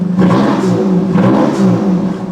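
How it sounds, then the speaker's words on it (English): A Palladium Blue BMW M4 revs with its exhaust valves open, a loud, close, raspy engine roar that rises and falls in quick throttle blips. "The last time you'll hear a Palladium Blue M4."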